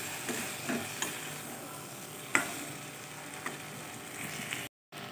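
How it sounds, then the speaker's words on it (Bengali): Already-fried eggplant with spices is gently stirred in a pan: a faint, steady sizzle with a few soft spoon scrapes and clicks, cutting out briefly near the end. "এবার আমি এই বেগুনগুলোকে দিয়ে একটু নাড়াচাড়া করে তারপর আমি জলটা দিয়ে দেবো"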